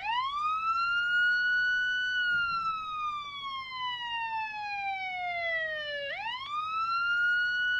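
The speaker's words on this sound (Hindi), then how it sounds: "अगर कोई साइरन का आवाज प्ले होता है" A single loud siren wails with long slow falling sweeps, then rises sharply again near the end, steady and close with no voices.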